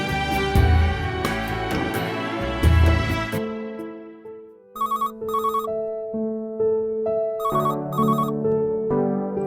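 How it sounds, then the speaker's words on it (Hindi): A telephone rings loudly in a television drama scene, an electronic ringtone of repeated melodic tones and double trills following a louder musical passage. "करीम बाबा, आपने कैसे फोन किया?"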